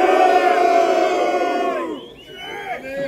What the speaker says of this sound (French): j'ai envie de vous proposer une petite huée qui va bien, un bon « ou »